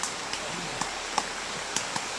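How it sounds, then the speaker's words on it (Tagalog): Heavy rain falls steadily outdoors as a dense, continuous hiss, with a few sharper drip or splash accents scattered through it. "Lakas talaga ng ulan."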